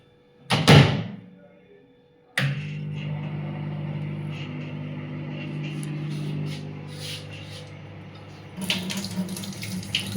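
Water runs steadily from a kitchen tap into a sink after a door thuds shut, a constant close splashing rush that swells louder near the end.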